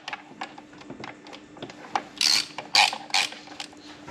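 A hand ratchet clicks in short bursts while tightening engine bolts that bottom out on crush tubes, working from the middle outward. The ratcheting is close and fairly loud, rapid clicks in several quick strokes, with no talk.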